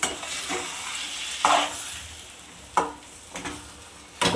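A spoon stirring rice and chana dal upma in a pan, soft sizzling under repeated scraping strokes, with several sharper clinks spaced irregularly, close and fairly quiet.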